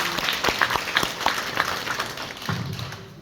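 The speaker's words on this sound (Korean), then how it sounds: "박수 부탁드립니다." Audience at an academic memorial lecture applauds the speaker, scattered individual claps standing out over a softer wash of clapping that thins toward the end, with a low thump near the close.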